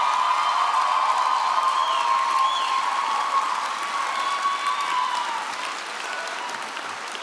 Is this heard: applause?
yes